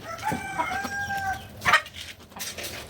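Several chickens cluck and call close by in short bursts while being fed, with a louder squawk partway through.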